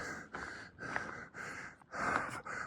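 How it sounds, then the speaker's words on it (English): Heavy, labored breathing close to the microphone while hiking uphill on a Bryce Canyon loop, rhythmic gasping inhales and exhales repeating every half second or so. "for the heavy breathing."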